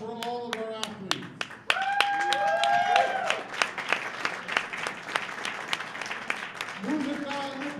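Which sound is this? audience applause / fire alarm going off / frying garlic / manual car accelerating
audience applause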